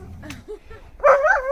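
A dog gives a short burst of barking and yipping near a hedge, loud and close after a second of quieter rustling and low noise, with a voice faintly heard encouraging it.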